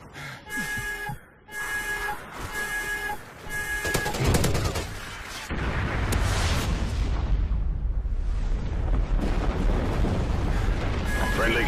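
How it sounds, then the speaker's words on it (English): Chem strike explosions in Call of Duty Ghosts, a multiplayer match, arrive amid game announcer voice lines and gunfire. Rumbling booms then swell into a loud, sustained roar that fills the rest of the stretch. "Friendly chem strike incoming."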